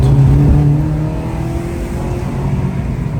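A Honda K20A Type R–engined car on a test drive, its engine note loud and close as it revs and pulls, then easing to a steadier drone with a low, continuous roar throughout.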